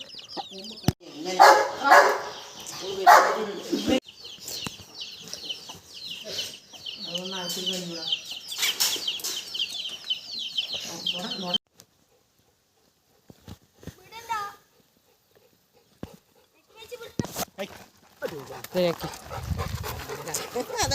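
Two dogs bark in loud repeated bursts amid clucking chickens, with a quiet pause midway before barking and noise resume.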